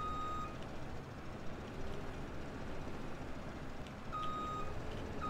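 A vehicle drives steadily in Landwirtschafts-Simulator 17 (Farming Simulator 17) under a continuous engine rumble, while repeated high reversing beeps sound throughout at an even pace.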